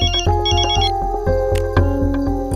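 A telephone rings loudly and repeatedly in a domestic drama scene, its electronic ringtone pulsing in a steady rhythmic pattern of short bursts with layered melodic tones, close and prominent with no talking.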